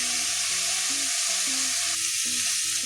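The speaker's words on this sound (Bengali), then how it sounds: "তো এবারে 2 মিনিট ভালো করে কষিয়ে নেব।" Dahi potol, pointed gourd curry with yogurt, sizzles steadily in a pan while being sautéed, with a loud continuous fry and intermittent scraping stirs throughout.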